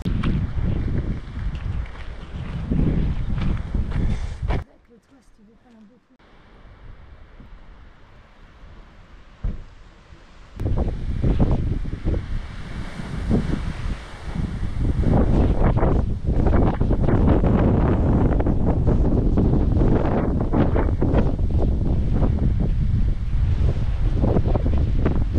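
Strong wind buffets the microphone in heavy roaring gusts on a hike in Norway, dropping briefly to a quieter lull before surging back louder and steadier.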